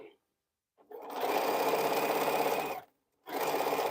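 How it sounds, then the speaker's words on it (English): A sewing machine stitches quilt pieces together in two close bursts of rapid, even whirring, a long run and then a shorter one, with a quiet pause between them. "I think I'm gonna sew these two together."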